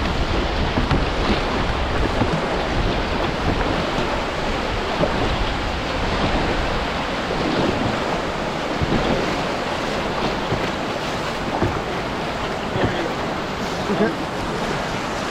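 A canoe runs whitewater on Toronto's flooded Humber River: a loud, unbroken roar of rushing water and buffeting wind noise fills the whole stretch, with no clear individual strokes standing out.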